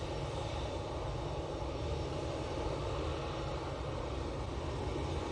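A steady, loud roar from an Etihad airliner's engines at Manchester Airport, heard from a distance as a broad continuous rumble with no voices.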